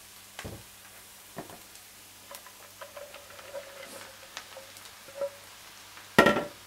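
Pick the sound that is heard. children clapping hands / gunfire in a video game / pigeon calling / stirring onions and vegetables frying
stirring onions and vegetables frying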